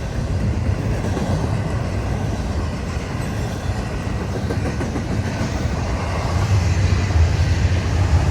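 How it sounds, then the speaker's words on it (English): A heavy double-stack container freight train rumbles past nearby, steady clattering of wheels over rails with a deep roar that grows louder toward the end. "That's a double stack container train."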